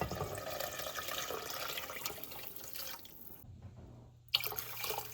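Water pours steadily into a soup pot for a vegetable soup, a continuous splashing stream that stops briefly near the end before a small clatter and a little more trickling, with no voices.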